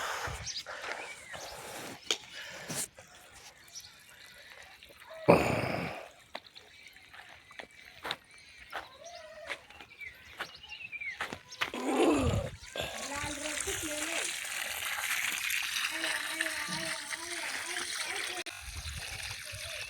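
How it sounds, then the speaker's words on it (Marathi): Water from a pipe connected to a tank hisses and splashes onto a murrum gravel platform, growing steady in the latter half, with a voice talking at times. "टाकीतून एक पाईप लावला आहे, वट्ट्यावरती पाणी मारतोय"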